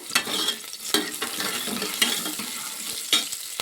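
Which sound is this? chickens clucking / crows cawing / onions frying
onions frying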